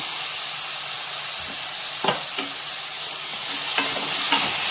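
Carrot and broad beans for sambar sauté in a hot pan, a steady close sizzle with a few soft scrapes and clinks of stirring on top, no talking.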